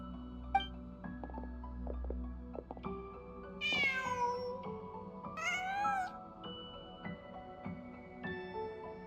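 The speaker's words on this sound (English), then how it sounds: "Just a cat." Two clear cat meows, one near the middle and another shortly after, rising over soft background game music and ambient tones in Genshin Impact; no talking.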